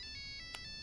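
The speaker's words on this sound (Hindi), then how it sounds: "अरे फोन है। अरे मेरे पास फोन है।" A mobile phone ringtone plays a short electronic melody, faint and brief, with a steady tonal ring and a small click partway through.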